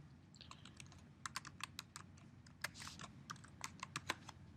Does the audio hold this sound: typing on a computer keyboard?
yes